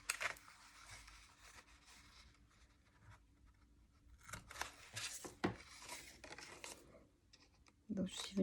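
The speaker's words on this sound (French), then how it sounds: "puis je découpe ce qui dépasse" Scissors snip off excess adhesive tape while making a two-part cardboard treat box, quiet close cuts and rasping rubs in short bursts separated by near silence.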